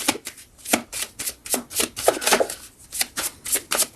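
Tarot cards are shuffled and drawn in quick, crisp bursts of riffling and slapping, a dozen or so close, sharp strokes with short pauses between them and no voices.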